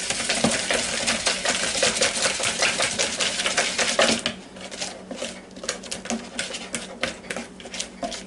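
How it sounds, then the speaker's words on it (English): A whisk stirs cheesecake batter in a bowl, giving rapid, close clicking and scraping strokes in a steady rhythm, loud at first and then lighter and more scattered. "Get a whisk. Try to stir it up a little bit here."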